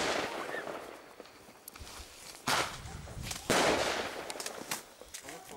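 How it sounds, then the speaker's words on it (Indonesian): New Year's Eve fireworks in Russia burst in several loud, sharp booms at uneven intervals, with crackling tails between them against a noisy outdoor background. "kita keluar untuk menyaksikan kembang api"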